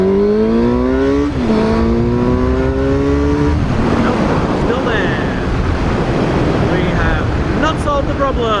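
A Suzuki GSX-R 600 motorcycle engine held at about three-quarter throttle, its pitch sweeping up and climbing in steady rises before breaking into rougher, wind-buffeted roaring; loud and close, with a voice over parts.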